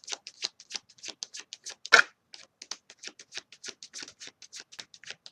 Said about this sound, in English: Let me take out more cards.